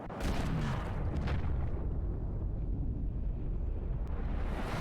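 A sniper rifle shot in the war video game Conflict: Desert Storm: a heavy, loud boom with a long roaring rumble that fills the whole moment and slowly settles, with no speech over it.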